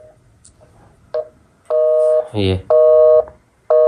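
A phone call is dialed, then a busy signal sounds: a few soft keypad tones, then repeated steady beeps broken by a brief burst of voice, loud and close on the line.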